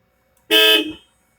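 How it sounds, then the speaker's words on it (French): A small car's horn gives one short, loud, nasal toot lasting about half a second, close by, alone against silence. "Ça, c'est le klaxon. Tu vois, le petit klaxon de PD."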